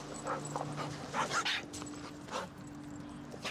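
A big, goofy puppy pants softly and lets out a few high, thin whimpers, close but faint against a quiet background hum.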